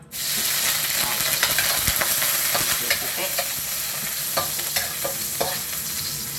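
Ginger frying in hot oil for adobo gives a loud, constant close sizzle, with scattered clinks and stirring scrapes throughout.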